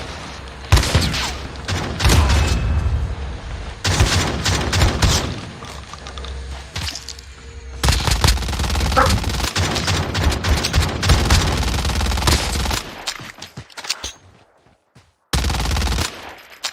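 Dense, sustained gunfire with shotgun blasts in a battle royale pro scrims match, long loud volleys of rapid shots with brief pauses and a final short burst.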